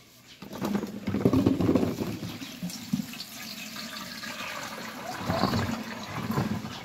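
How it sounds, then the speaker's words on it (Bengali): Liquid drained from mangoes kept packed in salt and turmeric is poured out close by, a steady splashing patter with heavier gushes near the start and again toward the end, with no talk. "তো দেখো এই আমগুলো এইভাবে রাখা হয়েছিল লবণ হলুদ দিয়ে, কতটা জল বার হয়েছে তোমাদেরকে দেখাচ্ছি ঢেলে"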